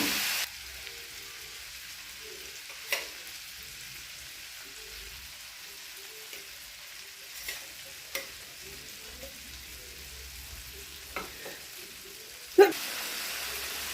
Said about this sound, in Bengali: এবার ইলিশ মাছগুলো আস্তে আস্তে একটু ওপিট করে ভালো করে ভেজে নেব